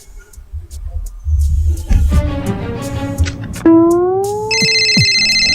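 A phone ringtone rings out loud and clear for an incoming call, a steady repeating electronic melody that starts partway through and carries on over low background noise.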